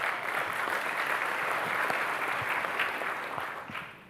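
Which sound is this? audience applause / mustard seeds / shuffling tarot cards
audience applause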